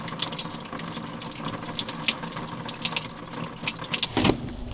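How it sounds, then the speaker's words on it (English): Water leaks from a gunshot-damaged refrigerator, a close, steady trickle and splatter that runs continuously with small drips. "we're leaking water."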